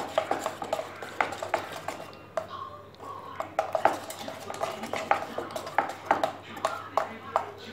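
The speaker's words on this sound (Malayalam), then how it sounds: "ഇനി നമുക്കിത് നന്നായിട്ടൊന്ന് മിക്സ് ചെയ്ത് കൊടുക്കാം." A small spoon clinks and taps against a bowl while palappam batter is mixed, a rapid irregular series of light metallic knocks with short pauses and a voice speaking at times.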